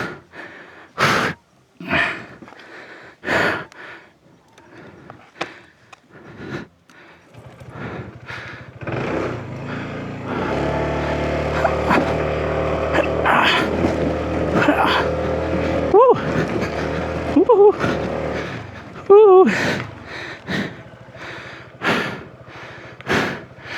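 A Honda ADV 160 scooter with its traction control switched off accelerates hard, its engine rising to a steady, loud drone over several seconds with pitch climbing between gear changes, while a rider talks before and after.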